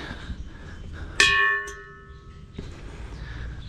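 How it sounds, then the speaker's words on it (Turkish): One metal bell at the Wat Ban Tam temple in Thailand is struck once, a bright clang that rings on and slowly fades, followed by a faint knock amid quiet outdoor background. "Duadan sonra da bu şeyleri çalıyorlar. Bu çanları çalıyorlar."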